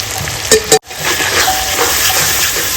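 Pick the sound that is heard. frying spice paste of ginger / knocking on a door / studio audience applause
frying spice paste of ginger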